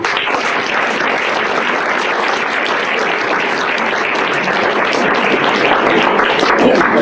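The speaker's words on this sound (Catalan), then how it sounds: "Aplaudiu, aplaudiu, que no s'ho pegui." Loud, continuous applause from a theatre audience during an amateur stage production of Cinderella, a thick, even roar of clapping that holds steady from start to finish.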